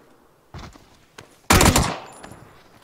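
Gunfire in the video game PUBG: a couple of soft isolated shots, then a loud close burst of rapid automatic fire that rings out and fades, with no talking.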